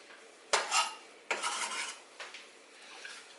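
Diced scallions dropped into a tablespoon of olive oil in a pan, giving two sharp clattering hits with a rasping sizzle and scrape after each, then a softer third stir, close and loud with no talking.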